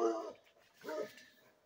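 Hunting dogs bark near a creek at night, two separate barks heard in the distance against a quiet background.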